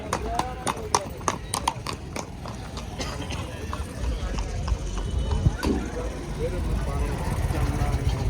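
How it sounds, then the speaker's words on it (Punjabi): Nukra mares' hooves clip-clop in a quick run of sharp beats at the Muktsar Sahib horse fair, then fade into a rumbling outdoor background with voices nearby. "ਨੁਕਰੀਆਂ ਘੋੜੀਆਂ ਵੇਖੋ ਸਵਾਰੀ ਦਾ ਆਨੰਦ ਲੈ ਰਹੇ ਆ ਇੱਥੇ"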